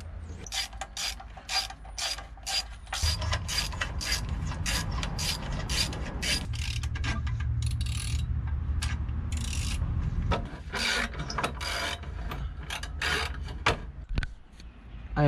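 A ratchet wrench clicks repeatedly while working on exhaust bolts of a Subaru WRX during a header and up-pipe swap, close and loud, in rapid ratcheting strokes with short pauses and some metallic rubbing.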